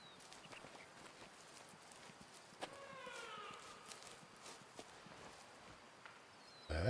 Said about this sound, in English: it's little mountain goats. That's what that sound was.